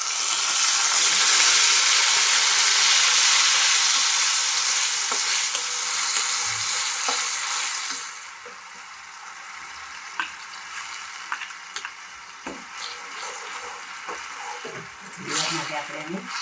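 Paste of mint, coriander leaves and ginger frying in hot oil gives a loud, steady sizzle for the first eight seconds, then softens into a quieter crackle with brief stirring clinks near the end.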